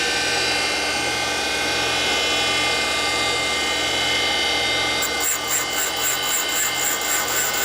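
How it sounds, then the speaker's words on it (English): A valve is ground into its seat on a 1942 Harley-Davidson XA 45ci military flathead engine during a top-end rebuild, making a steady whirring drone with a rhythmic low pulse that shifts in tone partway through, continuous and close. "So I'm going to try moving this in a different location and see if the valve will grind a little truer."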